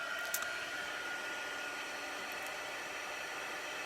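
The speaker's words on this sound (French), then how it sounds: "l'embossage, ben, ça prend le pistolet chauffant, puis là, ben, ça fait un peu de bruit" Heat gun blowing hot air to emboss paper for a handmade place card pouch, a steady airy hiss running the whole time at a fairly quiet level, with no one talking.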